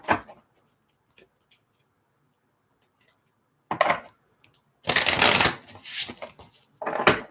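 Three decks of tarot cards are shuffled together in loud, close bursts of riffling and flicking, broken by quiet gaps and a few soft taps.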